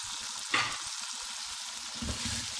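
Whole green chilies, slit down the middle, hit hot oil alongside tomatoes and set off a steady close sizzle, with a brief louder spatter as they go in and light stirring underneath.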